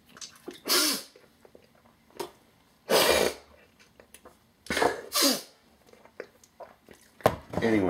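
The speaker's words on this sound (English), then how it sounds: "One second, I need to sneeze." Several sharp, breathy bursts from a person, sneezes and throat noises, spaced out with quiet gaps between them, close to the listener.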